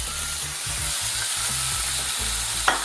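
Canned tuna goes into a pan of frying tomato and gets stirred, so a loud steady sizzle runs under repeated scraping stirs and one short sharp clink near the end.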